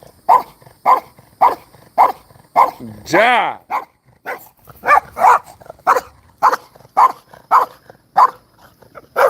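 A dog barks in a steady run of loud, close barks with a brief whine in the middle, while people talk over and between the barking.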